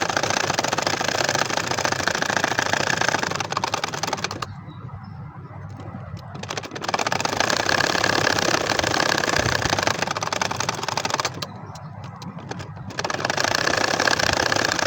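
An ordinary sewing machine stitching a double potol-leaf nakshi kantha quilt, running in steady fast mechanical bursts with two short pauses where the motor stops, close and loud, no talk.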